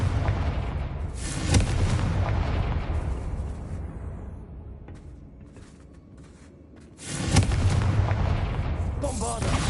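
Repeated Confringo fire spells burst in Hogwarts Legacy gameplay, loud rolling booms and crackling blasts that fade into a quieter lull before a fresh heavy explosion erupts near the end.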